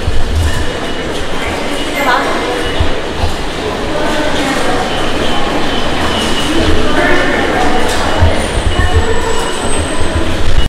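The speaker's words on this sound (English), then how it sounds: "Dito po kami sa loob ng train." A train rumbles along the rails from inside the carriage, steady rolling noise with squealing wheels and rattles, voices murmuring faintly underneath.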